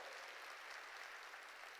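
Applause from a congregation during a church service, a brief, dense patter of clapping hands, steady and distant, with no talking.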